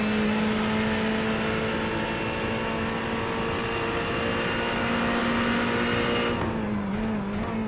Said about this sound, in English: It's a wonderful sound listening to that Ferrari going up through the gears and building up that speed